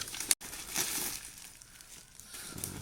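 Packaging crinkling and crumpling up close as a Flash X hazard warning flasher module from Race Dynamics is unboxed, quiet rustles with a sharp crackle early on and softer handling after.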